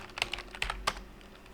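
Short bursts of keystrokes on a computer keyboard, roughly half a dozen close, light taps in quick irregular succession with no talking.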